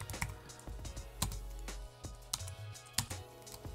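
Rapid uneven keystrokes on a computer keyboard, close and fairly quiet, with short bursts and brief pauses over a low steady hum.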